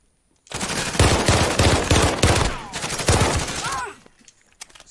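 Dense bursts of automatic gunfire from enemies in a video game, close and loud, rattling almost continuously for about three seconds before cutting off to quieter scattered noise.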